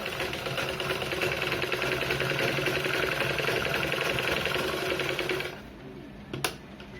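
Sewing machine stitching the front of a blouse, running steadily and loud for about five seconds with a fast, even mechanical buzz, then stopping, followed by a faint click.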